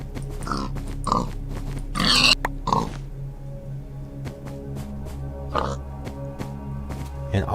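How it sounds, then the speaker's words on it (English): Pigs in the video game Minecraft Alpha 1.1 give several short oinks and grunts in an uneven rhythm, moderately loud over a steady low background hum with a few faint clicks. "And also exists the oinks,"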